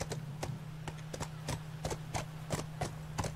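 Horse hooves clip-clop at an even walking pace while riding in the video game The Last of Us: sharp, moderately loud hoof strikes over a low steady hum.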